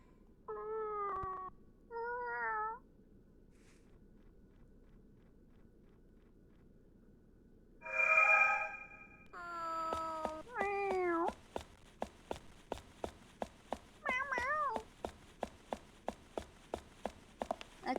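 A cat in the video game Fragile Dreams: Farewell Ruins of the Moon gives several clear, close meows, starting with separate calls and then a longer drawn-out cry, followed by a run of rhythmic footstep taps.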